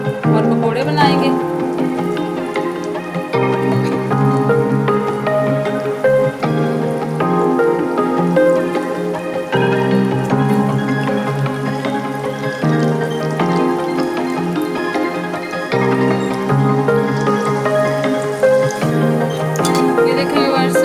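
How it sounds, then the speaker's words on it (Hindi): Pakora batter of spiced gram flour mixture sizzling steadily in two cups of hot oil in a home kitchen, a loud continuous crackling fry with rising bubbling, voices faintly present underneath. "ऑयल मैंने गरम किया हुआ है 2 कप। अब इसमें हम पकोड़े वाला मिक्सचर डालेंगे"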